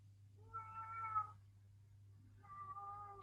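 A male house cat meows twice, close and clear, the second call shorter, over a low steady room hum during a home yoga session.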